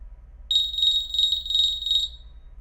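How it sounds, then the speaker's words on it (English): SonoAlti 3 audible altimeter sounds its high-pitched freefall alarm tone: a single loud, steady beep lasting under two seconds, heard alone against a quiet background. "The alarms highest up in the list are primarily conceived for freefall,"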